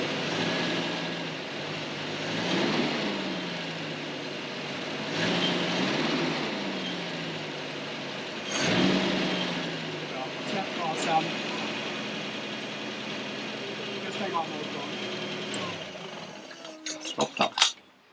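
A Volvo B18A engine being tuned idles steadily and revs up three times in quick rising and falling sweeps, then settles, ending with a few sharp clicks and knocks up close.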